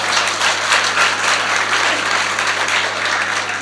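A live audience at a Hindi comedy stage show breaks into loud, dense applause, many hands clapping in a continuous even wash from start to finish with a faint electrical hum beneath.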